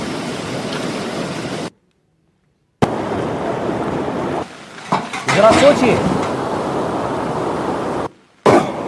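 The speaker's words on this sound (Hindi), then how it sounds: "इस नदी के वेग की आवाज आप सुन सकते हैं।" A river in flood after a cloudburst in Doda roars as a dense, loud, steady rushing wash broken by a couple of short gaps, with someone speaking briefly over it.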